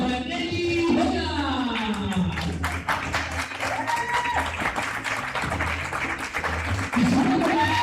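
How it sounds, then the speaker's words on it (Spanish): Audience applause at a padel tournament in Río Gallegos, a sustained wash of clapping from the crowd mixed with an announcer's amplified voice and a noisy arena background. "Por favor, fuerte el aplauso para Nelly Luna."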